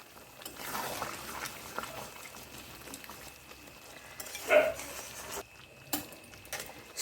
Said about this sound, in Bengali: সমস্ত কিছু মিশিয়ে নিচ্ছি রান্নার সঙ্গে